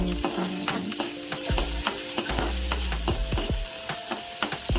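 Green chilies and curry leaves frying in a pan give a loud, continuous crackling sizzle, with a spoon stirring and scraping against the pan in repeated knocks throughout.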